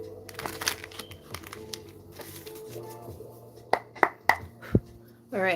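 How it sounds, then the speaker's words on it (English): Tarot cards being shuffled up close: a run of soft riffling and flicks, followed by a few sharp taps and a brief rustle at the end. "One more shuffle."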